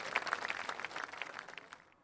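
Applause from a studio audience for a child on a fun television show, a soft spread of many hands clapping that thins out and fades away at the end.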